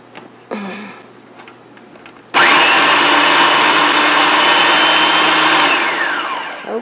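A Hamilton Beach food processor blends avocado dip. Its motor kicks in abruptly after a couple of light clicks and handling noises, then runs loud and steady, whirring for several seconds before slightly easing toward the end.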